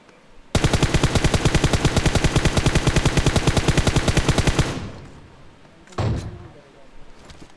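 Rapid automatic gunfire from an AR rifle in the Free Fire battle royale game, a steady fast burst of about four seconds that cuts off, followed by a couple of fainter thumps.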